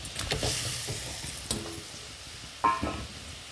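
Katol fish pieces hit hot oil in a pan and sizzle, with sharp spits and a few clinks of a utensil against the pan, fairly quiet and without speech.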